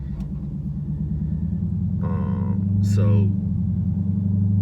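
Dodge Charger Scat Pack exhaust after a mid muffler delete, a steady deep rumbling idle with a slight swell partway through, while someone talks briefly over it.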